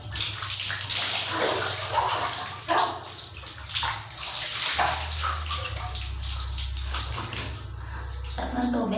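Water pours steadily from a tap in a bathroom while a dog is bathed, splashing and sloshing close by with small shifts in flow, and a voice briefly murmurs under it.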